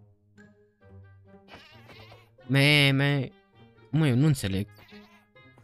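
A goat in the video game Minecraft lets out two loud, wavering bleats a second apart, each lasting about half a second, while someone speaks quietly before and between them.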